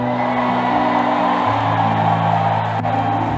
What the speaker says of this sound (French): je veux entendre encore des cris qui sont plus forts que ça